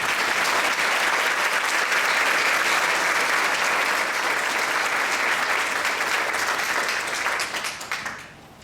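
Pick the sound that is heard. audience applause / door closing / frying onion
audience applause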